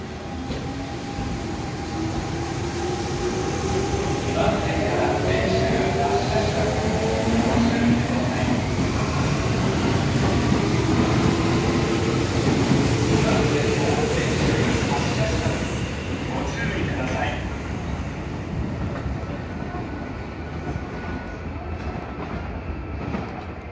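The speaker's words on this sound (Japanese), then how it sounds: "2番線から電車が発車します。" A Kintetsu local train bound for Nara pulls away from platform 2 at Amagasaki station, its motor whine climbing in pitch over a steady rumble and rattle of wheels, loud and continuous throughout.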